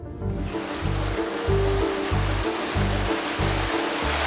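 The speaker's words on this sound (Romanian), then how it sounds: "Suntem în Munții Apuseni, de această dată la o cascadă formată pe travertin." Waterfall pouring over travertine rock where it emerges from a cave mouth in the Apuseni Mountains, near the Ordâncușa gorge; a steady, loud broadband rush of falling water with a low rumbling pulse, no voices.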